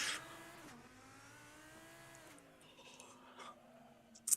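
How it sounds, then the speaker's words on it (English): A Lamborghini Huracan GT3 race car's V10 engine in a racing video game, revving and shifting with rising and falling pitch, moderately faint, a brief sharp burst at the end. "Just listen to that engine noise."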